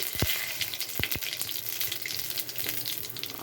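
Cumin seeds and bay leaf crackle in hot oil, a fairly quiet, close sizzle dotted with little pops and a few soft knocks from stirring.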